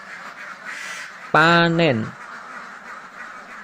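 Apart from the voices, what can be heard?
ducks quacking on an intensive duck farm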